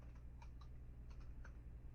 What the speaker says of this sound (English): while I'm sitting there typing the name Boston